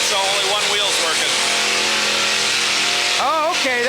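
A Cadillac at a demolition derby runs with a broken axle, its engine revving hard and loud in a sustained roar that surges and climbs, with crowd noise and talk mixed underneath.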